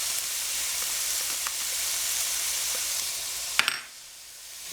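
Sausage, onion and garlic frying in a pan, a continuous close sizzle with faint stirring scrapes, ending in a couple of sharp clatters as the hiss drops away.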